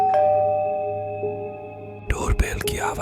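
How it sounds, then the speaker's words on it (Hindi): A doorbell rings late at night in an animated Hindi horror story, a single clear chime that slowly fades before a voice starts speaking. "अचानक मेरे घर की डोरबेल बजती है।"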